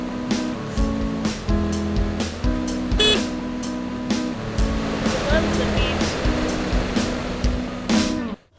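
Outdoor geyser in Hokkaido making a continuous rushing, splashing roar, loud and close, with a steady hum and wind underneath.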